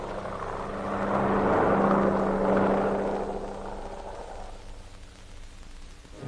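C-47 transport aircraft landing at an emergency airstrip: a droning piston-engine hum swells to a peak and then fades to a lower rumble, heard alone at moderate distance.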